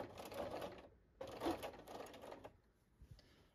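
Bernina 440 sewing machine free-motion quilting a spider web design, its needle running in two steady bursts of rapid mechanical stitching separated by a short pause, then slowing into a few softer, quieter stitches at the end.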